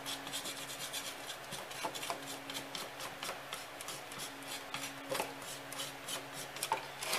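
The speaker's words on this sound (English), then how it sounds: "I'm using a piece of wood to scrape off the extra paint." A piece of wood scrapes stripped paint off a Cold Steel Norse Hawk axe head in a steady run of close, rasping, rubbing strokes with a few sharper scrapes.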